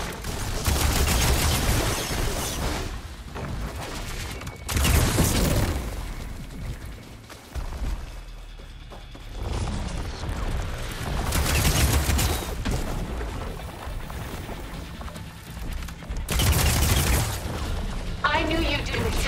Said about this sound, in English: Fire a barrage!